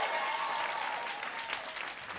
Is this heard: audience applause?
yes